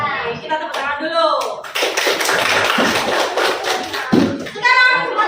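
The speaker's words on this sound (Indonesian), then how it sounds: "kita tepuk tangan dulu" A classroom of students claps hands together in a lesson on coding and artificial intelligence, a burst of many hands slapping in quick uneven rhythm for a few seconds, framed by a teacher talking before and after.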